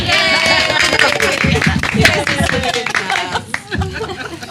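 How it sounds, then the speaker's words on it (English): Room audience at a Concord Board of Education monthly meeting gives a round of applause, scattered claps mixed with chatter and light laughter, people talking over it at close range. "I would like a round of applause for when we started."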